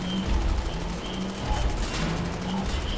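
Enemy gunfire in Wolfenstein: The New Order, a dense, sustained clatter of distant shots and bursts layered over low rumbling combat noise and intermittent tonal hums, continuing steadily with no voices.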